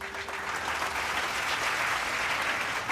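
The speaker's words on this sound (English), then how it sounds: "Let's give Chris a round of applause for her dedication and service to Sauk Valley Community" Steady applause from an audience at a community college years-of-service celebration, a dense even patter of many hands clapping, fairly loud and continuous with no talk over it.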